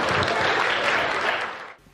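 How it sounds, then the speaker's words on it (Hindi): Audience clapping at a Hindi poetry recital in Meerut, a dense, steady burst of applause from a crowd that holds for under two seconds and then cuts off abruptly. "जोरदार ताली बजाइए रोहित पांडे।"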